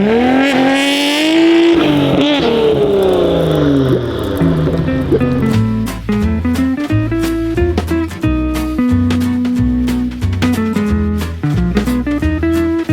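A Nissan Skyline GT-R engine revs hard as all four wheels spin, a loud rising wail followed by rapid, choppy bursts of revving and limiter-like stutter close by.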